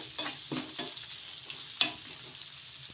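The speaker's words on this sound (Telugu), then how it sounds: "కొంచెం కరివేపాకు వేసుకొని మళ్ళీ ఒకసారి బాగా కలిపేసుకుందాము" Curry leaves being stirred into a sago breakfast in a pan, a spoon scraping in a few quick strokes over a faint sizzle, close and alone.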